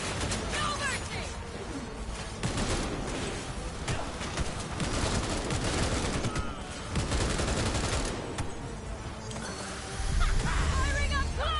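Dense bursts of gunfire from a firefight in Cyberpunk 2077 rattle almost nonstop, loud and close, with shouted voices over the shooting.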